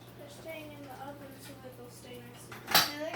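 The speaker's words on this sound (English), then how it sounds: "Be so careful with the dishes." Dishes and cutlery clatter softly as kitchen cupboards are cleaned out, with a voice talking under the light clinking and a sharper clash of dishes near the end.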